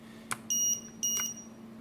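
Alarm from a Matek 5 in 1 PDB, giving two short high-pitched electronic beeps, each preceded by a brief click, over a faint steady hum.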